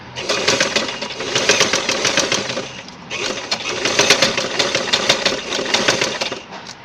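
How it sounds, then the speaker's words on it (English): A sewing machine runs close and loud, stitching stretch fabric with newspaper above and below it in a fast, steady mechanical chatter that pauses once briefly midway before carrying on. "keep stitching while keeping newspaper on and below the cloth"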